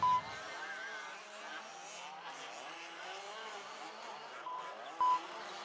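A 1/5 scale electric 2-wheel-drive RC race car at an outdoor raceway, a thin whining motor rising and falling as it circles the track, moderately distant, with brief sharp beeps at the start and near the end.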